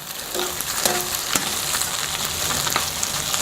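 Carnitas and a flour tortilla sizzle on a hot burner, a close, steady frying hiss with sharp pops and crackles scattered through it, no voices.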